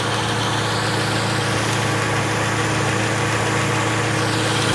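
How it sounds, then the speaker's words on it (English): A 1995 Acura Integra GS idles steadily with its radiator fans spinning, a continuous close, loud engine hum with a whooshing fan roar, no speech. "So the fans are spinning."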